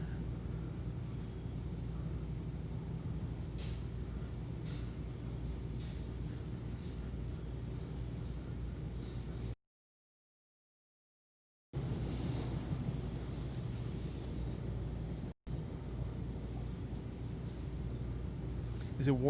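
Steady low rumble from the interior of a moving Long Island Rail Road train, heard near and continuous. The noise cuts out briefly midway, and people talk over it throughout.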